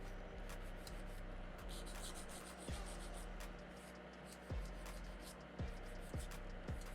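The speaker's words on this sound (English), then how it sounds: "So you see, I'm filing straight." A nail file rasps across an acrylic nail in quiet, steady back-and-forth strokes, close up but faint, with occasional soft knocks and no talking.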